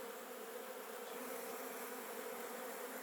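A swarm of bees hums steadily at a campsite, a continuous, even buzzing drone that fills the air, fairly faint with no voices.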